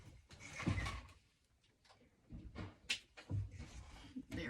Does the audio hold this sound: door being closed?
yes